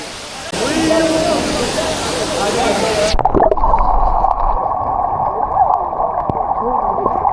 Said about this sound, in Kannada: ಫಾಲ್ಸಿಗೆ ಬಂದ್ವಿ. ನೋಡಿ ತೋರಿಸ್ತೀನಿ ಫಾಲ್ಸು.